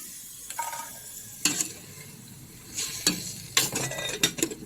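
Ingredients for dinuguan, pork blood stew with coconut milk, sauté in a hot pan, a steady sizzle broken by several bursts of scraping and stirring, close and fairly loud, with no talking.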